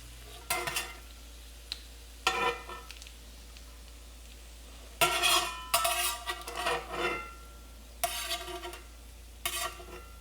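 Walleye fillets frying in a hot pan, crackling in several loud bursts of popping and spattering with quiet gaps between, close up and with no voices.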